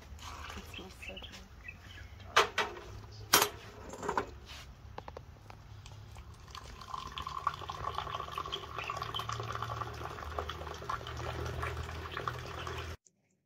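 Moroccan mint tea splashes as it is poured into a glass and back into the pot, a few sharp clinks followed by a sustained trickling stream under faint background sound.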